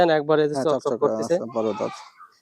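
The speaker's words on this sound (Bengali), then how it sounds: "এখানে একটা বড় সড়ো ছাগল" A large goat on a farm bleats several times in quick, wavering calls, loud and close, with no talk over it.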